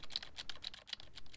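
Keys clatter quickly on a computer keyboard plugged into a HyperDrive USB-C hub, a close, steady run of crisp taps with brief uneven pauses.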